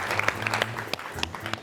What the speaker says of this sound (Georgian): ხურვალე აპლოდისმენტები კარიატიდას და უსურვოთ წარმატებები ფინალში.